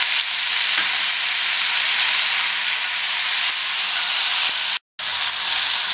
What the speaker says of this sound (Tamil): 3 மீடியம் சைஸ் தக்காளி பொடியாக கட் பண்ணதை சேர்த்துக்கலாம்.